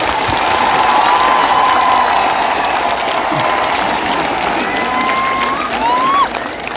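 An audience claps and cheers at a live stage event, a loud, continuous burst of applause and voices that holds steady, then eases slightly near the end.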